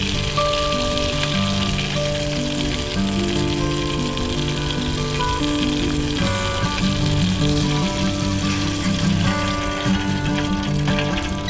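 Thin little pieces of fish frying in a pan outdoors near Never Fail Bay, a loud, steady crackling sizzle with dense popping that runs unbroken throughout, close up, with faint tonal background sounds and no talk.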